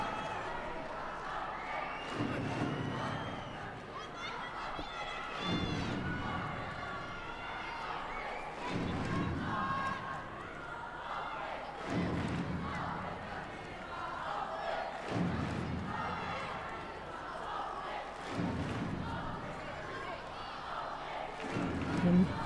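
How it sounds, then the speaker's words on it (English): A judo arena crowd at the 2018 Düsseldorf Grand Slam lifts its voices in rising cheers while a German fighter attempts an uchimata, with a continuous hum of spectators broken by repeated dull thuds from the mat. "the crowd start to raise their voices as a glimmer of hope for that Uchimata there from the German"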